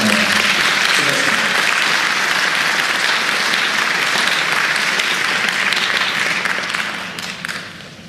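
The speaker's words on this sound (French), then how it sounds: "Merci de l'applaudir." At a colloquium, an audience greets a speaker with loud, sustained applause, a thick even roar of clapping lasting several seconds before thinning out and fading toward the end.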